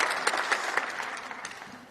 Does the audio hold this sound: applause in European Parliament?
yes